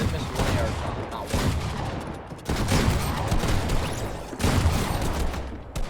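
Dense assault rifle gunfire from Fortnite, sustained rapid overlapping shots in loud bursts with two short breaks between volleys.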